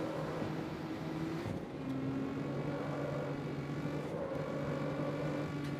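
A video game sports car engine in CarX Street drones steadily with low, resonant tones, rising slightly in pitch as it revs, continuous throughout without pauses.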